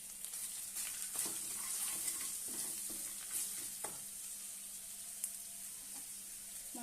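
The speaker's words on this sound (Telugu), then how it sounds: "ఇవన్నీ ఒకసారి కలుపుకొని" Spices stirred in a frying pan for brinjal curry: soft sizzling with repeated scraping strokes of a spoon against the pan, close and steady, with a few sharper clinks.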